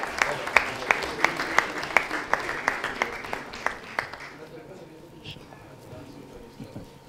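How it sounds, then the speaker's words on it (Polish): An audience at an award ceremony for a sports competition finale claps in a burst of distinct, fairly sparse claps that fade out after about four seconds. "Wielkie brawa."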